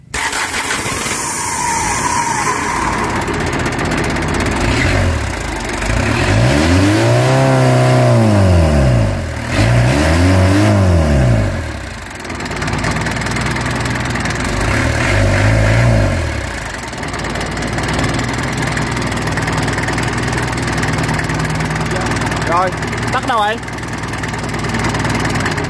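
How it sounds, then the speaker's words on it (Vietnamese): An excavator's diesel engine cranks, fires up and revs in a couple of swelling bursts before settling, loud and close, with talk in the background. "Đây em nổ máy lên ga coi."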